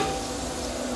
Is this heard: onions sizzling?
yes